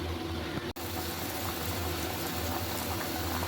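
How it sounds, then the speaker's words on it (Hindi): Water boiling in a pot for mutton pulao, a continuous dense bubbling and rolling hiss, close and steady throughout. "अभी ज़रा ये पानी गर्म जोश मारेगा"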